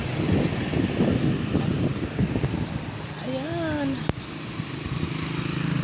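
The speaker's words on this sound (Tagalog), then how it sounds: "Hangin, nakanghangin." Wind gusting across an outdoor spot, a steady broadband rush that stays loud throughout, with a brief whistling tone and a sharp click near the end.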